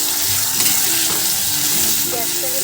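Green banana peel paste hits a pan of hot oil with tempered spices and dried red chillies, producing a loud, steady, close sizzle that runs throughout.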